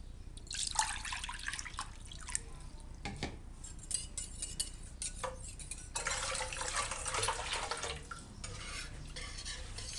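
Water pours and splashes into yogurt in a pan for kadhi pakora, close and fairly quiet, with bursts of liquid sloshing and the clink of a utensil against the pan, and no talking.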